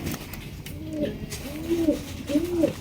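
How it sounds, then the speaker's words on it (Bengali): A pair of large American Lakha pigeons coo in soft, rounded, repeated calls, three or four phrases in quick succession, close by over faint background noise. "এখানে দেখতে পাচ্ছি একজোড়া আমেরিকান লাক্ষা কবুতর"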